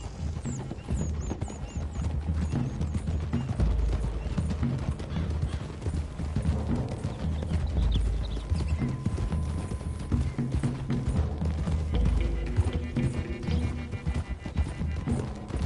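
Continuous clip-clop of several horses' hooves in Red Dead Redemption 2 over a low rumbling background, with a whinny, steady and fairly close throughout.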